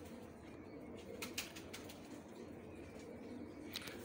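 Pigeons coo softly in a loft, where a male bird moves among the flock. The calls are faint and low against a steady background hiss, with a few brief sharper chirps and no talk.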